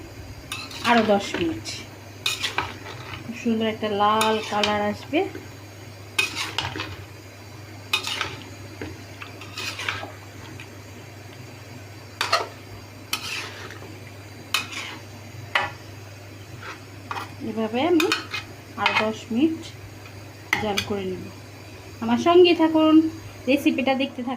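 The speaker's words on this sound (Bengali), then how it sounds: "এখন এভাবে সবগুলি আম আমি এপাশ ওপাশ করে রান্না করবো" Mango pieces for Kashmiri mango pickle are stirred and turned in a pan with a spoon, producing repeated clinks and scrapes of utensil on metal, while someone talks throughout.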